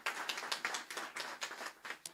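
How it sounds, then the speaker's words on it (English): Audience clapping at a Special Olympics opening ceremony, a faint, brief patter of distinct claps with a quick rhythm. "Please, a round of applause for them."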